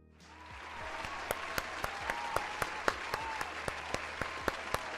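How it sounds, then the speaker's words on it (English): Applause during a live online tabletop role-playing review show: crisp, evenly spaced claps ring out over a steady hiss that swells in at the start, sounding thin and fairly quiet, with no voices. "Extra long applause."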